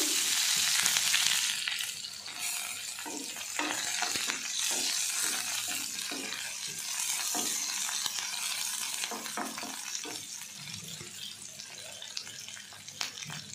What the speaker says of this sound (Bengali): তেলে আমি শুকনো লঙ্কা দিয়ে দিয়েছি আর গোটা জিরে দিয়ে দিয়েছি ফোড়ন হিসেবে তার মধ্যে আমি পেঁয়াজ দিয়ে দিচ্ছি